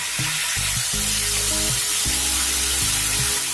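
Water poured into a pan of chilli powder and spices frying with ridge gourd brings a loud, continuous sizzle and hiss, close and unbroken, with faint stirring beneath and a lower background hum.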